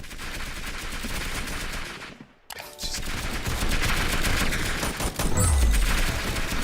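Rapid, continuous gunfire from a Nerf shooter video game, loud and steady, broken by a brief drop to near silence before the shooting resumes.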